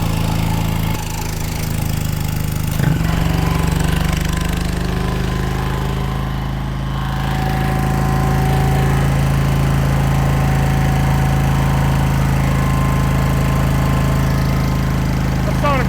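A rare old air compressor runs unloaded with a steady, loud mechanical drone and a low motor hum throughout, briefly shifting pitch early on before settling into an even, continuous run.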